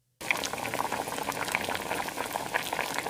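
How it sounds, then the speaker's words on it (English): Soup broth simmering over reduced heat, a dense continuous bubbling and popping that starts abruptly and carries on steadily at close range, with no talking. "I reduce the heat and let it simmer. Gentle bubbles now."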